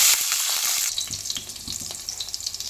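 Green chillies tossed into hot oil already crackling with cumin and mustard seeds, a bright burst of sizzle that settles into steady frying with rhythmic stirring taps against the pan.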